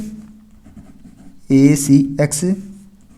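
Marker or chalk scrapes across a classroom board while trigonometry is being worked out, starting as a faint scratch and growing louder in bursts partway through, with a voice sounding over the later strokes.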